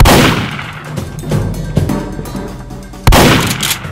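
Gunshots ring out in a fight scene, with several loud sharp cracks close by, each followed by a ringing decay, irregularly spaced across a few seconds.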